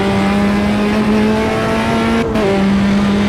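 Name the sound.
race car engine in video game Automobilista 2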